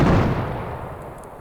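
A Mark 19 grenade launcher fires in Arma Reforger: one loud, heavy boom that rolls out into a fading rumble over about a second and a half.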